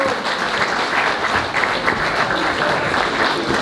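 A crowd claps strongly and continuously to welcome a folk band onto a stage at a local presentation, the applause dense and close with only faint murmurs.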